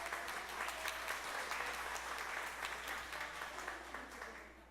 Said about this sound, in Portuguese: Bate palmas para ela.